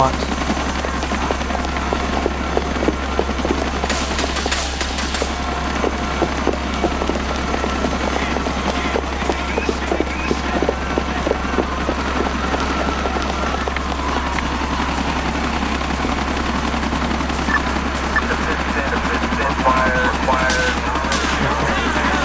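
Police helicopters in the GTA IV game drone loudly and constantly throughout, their low rotor throb mixed with bursts of gunfire and clatter.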